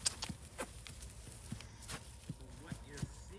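Barefoot four-year-old mare walking on muddy ground, a series of soft, slightly wet hoof thuds in a loose walking rhythm, close and fairly quiet.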